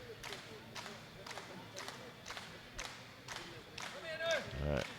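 Rhythmic clapping and scattered crowd shouts of encouragement at a world classic powerlifting championship meet, steady regular claps with voices rising toward the end.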